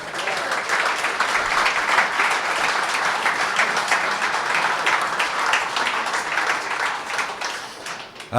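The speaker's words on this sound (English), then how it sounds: "That would be worthy of an applause, I think." Sustained applause from an audience at a sports hall of fame induction ceremony, dense steady clapping that stays loud and even throughout before a sudden burst at the end, with no talk over it.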